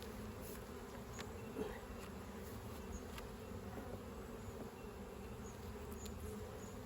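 Honeybees buzz around an open beehive in a dense, steady hum that holds evenly throughout at moderate loudness, with no voices.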